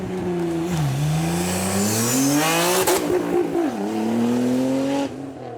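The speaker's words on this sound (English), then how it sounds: "you can hear those turbos in the air now, forcing instances of that V6" Nissan GT-R with a twin-turbo V6 accelerating hard at a supercar event, loud and close, engine note climbing through repeated gear changes with turbo whoosh and crowd ambience, then easing off as it pulls away.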